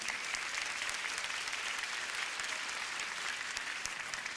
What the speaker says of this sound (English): Then clap for yourselves, class of 22.